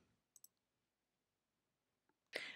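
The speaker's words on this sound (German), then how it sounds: "klicke ich hier auf dieses Werkzeugsymbol" A computer mouse clicks on a tool-shaped settings icon in the Actionbound app: two quick, faint clicks close together, followed by quiet.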